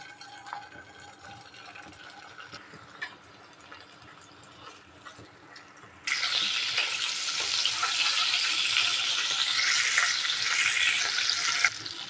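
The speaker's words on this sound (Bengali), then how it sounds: "তেলটা গরম হয়ে গিয়েছে এখন দিয়ে দেবো আমি চিংড়ি মাছ" Shrimp dropped into hot oil in a pan, a loud bursting sizzle that kicks in halfway through and holds steady after a quieter stretch of faint kitchen noise.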